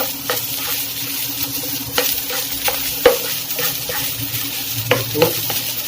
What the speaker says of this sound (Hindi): इसको हम अच्छी तरह इसमें टॉस करेंगे ताकि हमारा वेजिटेबल और राइस मिक्स अच्छी तरह हो जाए